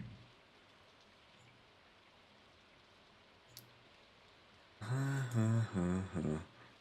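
Rain falling in the Stardew Valley video game, a soft, even hiss that runs steadily throughout; near the end, someone starts talking over it.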